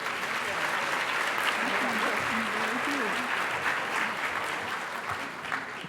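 Steady applause from a crowd fills the whole stretch, with a voice briefly audible underneath before the clapping tapers slightly toward the end.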